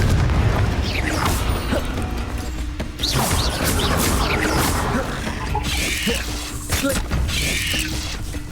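Confringo blast spells booming and crashing repeatedly in Hogwarts Legacy on Nintendo Switch, a dense run of loud explosive bursts over busy game noise with occasional voice.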